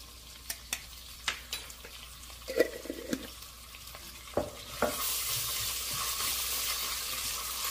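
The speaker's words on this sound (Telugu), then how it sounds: "పచ్చివాసన పోయేంత వరకు వేయించాలి." Ginger garlic paste fried in a pan for mutton keema biryani: a few spoon taps and knocks against the pan, then a loud steady sizzle builds once the paste hits the oil, no speech.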